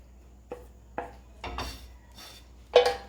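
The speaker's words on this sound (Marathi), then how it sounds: "कढईमध्ये सगळं साखर खवा आणि बेसन आपल्याला मिक्स करून घ्यायचं आहे" Spoon scraping and clinking against a kadhai while khoa, besan and sugar are stirred together, a few sparse strokes that grow louder toward the end, with no voices.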